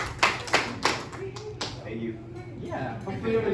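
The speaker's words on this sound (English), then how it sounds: "they definitely deserve a round of applause" A small group at a vegan meetup at a retreat gives the young ladies a short burst of hand clapping that quickly dies down, followed by close, quiet chatter and people shuffling around.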